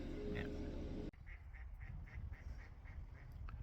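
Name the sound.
ducks quacking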